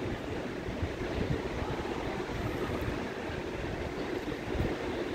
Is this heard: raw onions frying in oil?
yes